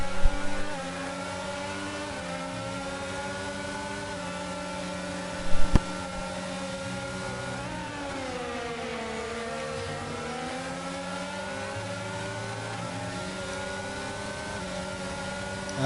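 Steady high-pitched whine of a McLaren Formula 1 car engine in F1 22 at the Bahrain GP, revving loudly and continuously with a pitch dip and recovery through a corner, one brief thump early on.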